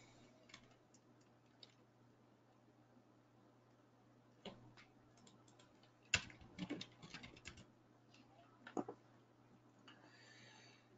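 Quiet, scattered clicks of keys tapped on a keyboard, close but faint, with brief flurries of typing over a low steady hum.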